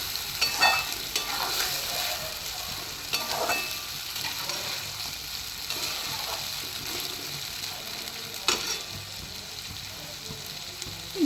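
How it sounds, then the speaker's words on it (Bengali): Pieces of katla fish sizzle steadily in hot oil while being sautéed and turned, with a constant frying hiss broken by scraping, clattering flips every few seconds. "মাছটা দিয়ে আমি একটু ভালোভাবে সাঁতলে নেব মাছটাকে"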